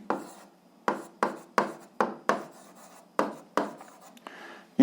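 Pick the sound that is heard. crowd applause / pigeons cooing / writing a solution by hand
writing a solution by hand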